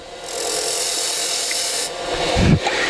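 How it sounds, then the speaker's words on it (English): Parting tool cutting a shoulder into spinning wood on a lathe, a continuous loud rasping scrape that eases briefly and ends in a short heavier chatter. "I take the parting tool and I create a slight shoulder right where my lines are"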